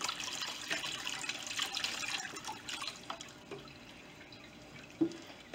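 Running water rinses tumbled quartz stones after a week in a rock tumbler: a faint, steady splash and trickle with occasional drips and one small clunk near the end.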